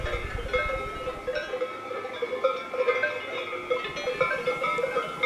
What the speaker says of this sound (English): you can hear the bells that are ringing from the cows in the fields